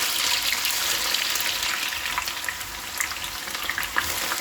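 Sliced onions fry in hot oil for birista for a mutton dum biryani, a dense, loud, unbroken sizzle with scattered pops and crackles, close up and with no voices.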